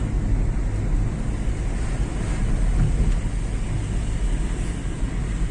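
Steady cold wind roars across the microphone at a hilltop temple, a continuous broadband rush with no breaks and no talking.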